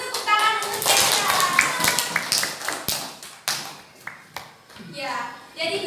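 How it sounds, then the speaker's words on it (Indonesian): A scattering of hand claps and taps breaks out amid children's voices in a primary school classroom, irregular and close, thinning out before talking resumes. "Kasih tepuk tangan untuk Kesya."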